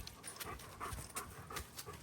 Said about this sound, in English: here comes the doggies. Look at how big this dog is.